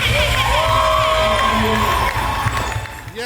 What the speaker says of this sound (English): can we have a round of applause for everyone that's involved in this?